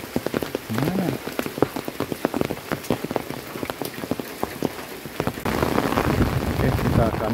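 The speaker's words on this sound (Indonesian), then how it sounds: "Aduh, hujannya semakin deras sahabat ya." Heavy rain pours onto surfaces in a village, a dense, close patter of drops that swells louder toward the end, with a voice briefly audible beneath it.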